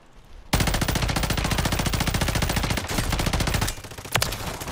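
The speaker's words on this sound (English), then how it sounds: "He's shooting through the wall." Video game gunfire in a loud, sustained burst of rapid automatic shots lasting several seconds, close up, briefly dipping before a few more rounds.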